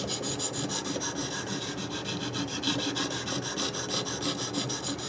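A knife blade being sharpened on a ViperSharp diamond knife sharpener, a steady, close, continuous raspy scraping with rapid repeated strokes and no pauses.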